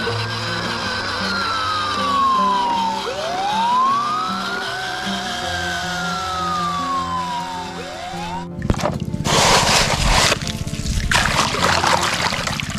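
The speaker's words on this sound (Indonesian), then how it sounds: "Mobil pemadam kebakaran." A toy fire truck siren wails in slow rising and falling sweeps, then gives way to loud, harsh rattling noise near the end.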